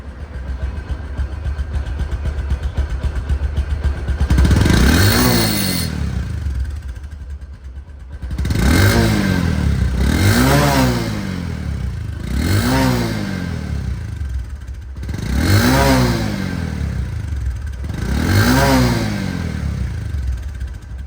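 A second-hand 125cc motorcycle with about 1,745 km on it runs close by, its engine rising into five or six repeated revs with brief dips back to idle between them.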